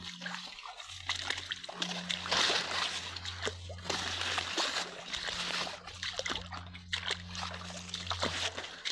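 Water splashes and sloshes in steady rhythm as someone wades through shallow rain-fed standing water in a maize field, with a low engine-like hum underneath.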